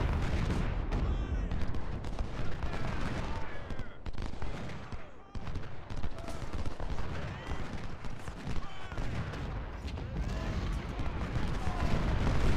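Civil War cannon and musket fire at the Battle of Cedar Mountain in Ultimate General: Civil War, a dense, continuous rumble of booms and crackling volleys with a voice talking over it.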